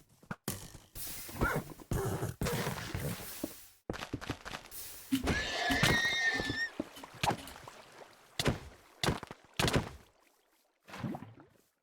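Horses in a video game whinny with a high wavering neigh amid a busy run of thumps, clicks and rustling game effects, loud and close in short bursts.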